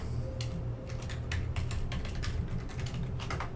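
Password typed on a computer keyboard: a quick, irregular run of close, crisp key clicks with short pauses, alone and fairly quiet.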